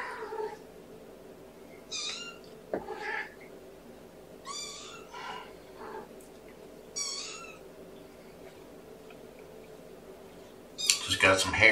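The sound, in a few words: kittens meowing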